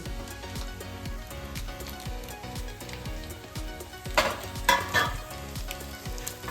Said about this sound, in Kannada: ಮತ್ತು ಈರುಳ್ಳಿ ಇದನ್ನು ಇದಕ್ಕೆ ಹಾಕಿ ಫ್ರೈ ಮಾಡ್ಕೊಳ್ಳಿ.